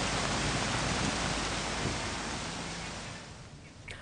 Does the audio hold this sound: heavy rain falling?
yes